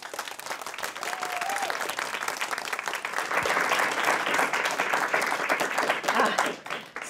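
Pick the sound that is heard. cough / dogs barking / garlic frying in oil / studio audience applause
studio audience applause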